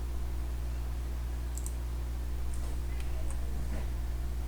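Mouse clicks adjust a potentiometer in Isis Proteus simulation software, a few small, sharp clicks spaced irregularly over a constant low electrical hum.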